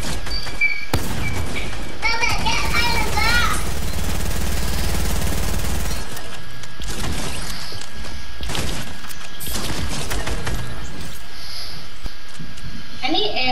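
Fortnite gunfire, loud and dense with repeated sharp bursts and thumps spread across the clip, mixed with game effects and voices talking over it.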